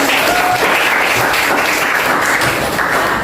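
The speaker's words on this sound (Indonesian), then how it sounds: "Tepuk tangan" Students in a classroom clap together in a loud, dense, continuous burst that stays steady and close for the full length.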